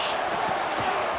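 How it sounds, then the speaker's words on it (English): Boise State football stadium crowd roaring on third down, a loud, continuous wall of cheering and shouting from a large distant mass of fans with no clear breaks. "This Boise State crowd bringing the noise. It's deafening here on third down."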